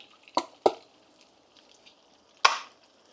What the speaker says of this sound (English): So we're going to put the celery in there.